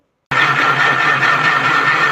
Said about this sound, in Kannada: ನುಣ್ಣಗೆ ರುಬ್ಕೊಂಬರೋಣ ಬನ್ನಿ.